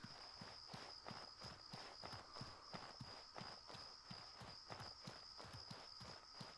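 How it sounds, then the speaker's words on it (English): Footsteps in the video game Outward keep a steady, even pace throughout, soft and regular over a constant background hum. "I hear footsteps."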